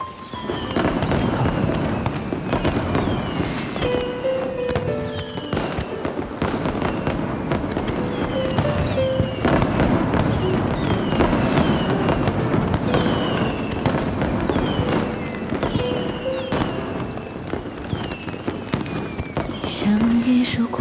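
Fireworks burst continuously on a snowy night, a long barrage of crackling pops and booms filling the air, with a brief voice heard once over the din.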